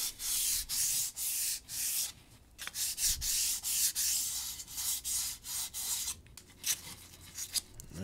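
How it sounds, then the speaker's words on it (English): Gentle hand sanding of a wooden throwing-axe handle: rhythmic, close, soft rasping strokes in a steady back-and-forth pattern, with a brief pause midway, no talking. "I just want to get some of those fibers that got raised up from being wet, sanded down real gently before I put the clear coat on it."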